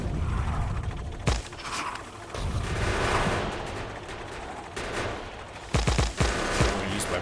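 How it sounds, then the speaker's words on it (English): Gunfire in the Factorio video game as bullets are used on bug nests, with rapid bursts of shots and sharp cracks, some louder separate impacts, all over a busy rumbling mechanical game background. "I'm gonna use my bullets to kill the nests, let the plasma cannon deal with the actual bugs."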